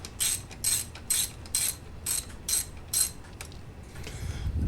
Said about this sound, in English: Now this is the 14 millimeter socket that we use for this.